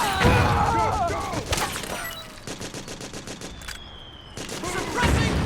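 Machine gun suppressing fire in the Metal Gear Solid 4 video game, rapid bursts of gunshots mixed with explosions and battlefield chaos, with soldiers shouting over the loud gunfire.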